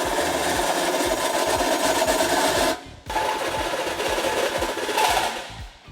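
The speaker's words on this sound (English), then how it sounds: "we will enlarge the inner hole on both bumper beam brackets" Power tool enlarging the inner hole of a bumper beam bracket on a 2012 Ford Taurus during a trailer hitch install, grinding steadily and loudly with a brief pause midway before continuing.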